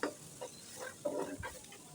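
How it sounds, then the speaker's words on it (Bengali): Taro and shrimp curry with coriander powder being sautéed and stirred in a pan, soft sizzling with scraping stirs in short bursts, close and fairly quiet. "এবার আমি আবারও ওই সম্পূর্ণটাকে ভালো করে কষিয়ে নেব।"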